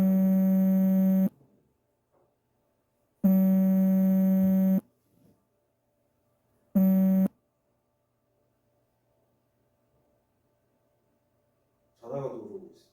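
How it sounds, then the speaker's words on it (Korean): A phone rings with three bursts of a steady, loud, tonal ringtone separated by silences, followed by a brief bit of talk at the end. "전화가 들어오고 있습니다."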